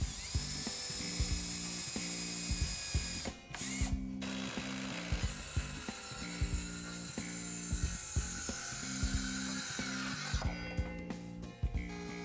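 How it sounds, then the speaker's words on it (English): Cordless drill driving exterior-grade screws into a pressure-treated wood planter box, heard as repeated short whirring bursts with brief pauses between them, steady and fairly close against a quiet shop background. "Drill pilot holes and install exterior grade fasteners designed for use in pressure treated wood"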